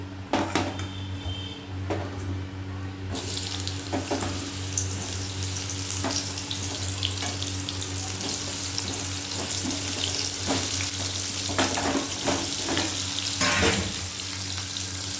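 Pointed gourd frying in oil in a home kitchen pan, a steady bright sizzle that runs for the whole stretch over a low constant hum, with no talking.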